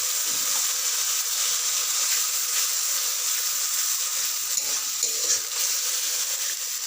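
A water-mixed paste of ginger, cumin, coriander, turmeric and red chili frying in hot oil for a Bengali dhokar dalna, giving a loud, steady, dense sizzle that holds throughout with no voices.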